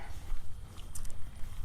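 A horse's hooves clop at a steady walking pace close by, dull rhythmic thuds over a low, breezy outdoor background.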